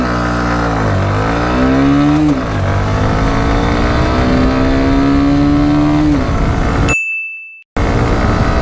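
Bajaj Platina 110 motorcycle accelerating hard from a standstill through the gears, loud close engine whine rising in pitch, dropping at each shift and climbing again, then a sudden brief cutout.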